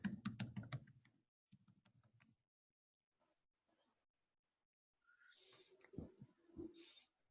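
Typing a password on a computer keyboard: a quick run of crisp, close key clicks, a second short flurry, then a few faint scattered taps, followed by quiet background sounds.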